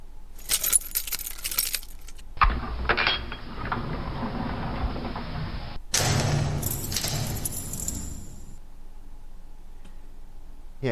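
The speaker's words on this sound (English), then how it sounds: "if I hear somebody's dangling of keys" A bunch of keys jangles in short bursts, with metallic clinking and rattling that stops and starts over several seconds, close by and fairly loud against a quiet room.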